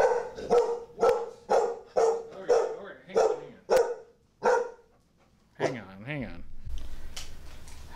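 A pet dog barks insistently at home, wanting to go outside: about eight sharp, close barks in an even rhythm, followed by a short whining yip and faint background hum.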